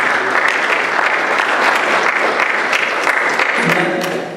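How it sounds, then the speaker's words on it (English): An audience in a hall gives a dense, even round of applause that holds steady for several seconds and then begins to fade. "Please give a round of applause for them."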